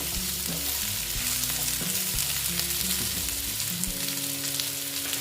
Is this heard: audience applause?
no